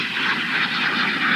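A jet aircraft roars in a steady, airy whoosh, fairly loud and unbroken, without voices.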